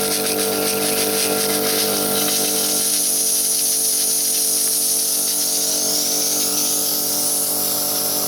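A Karcher K4 Full Control pressure washer sprays at raised lance pressure, giving a steady, loud hiss of water over a constant pump and motor drone with a high whine, unbroken for the whole stretch.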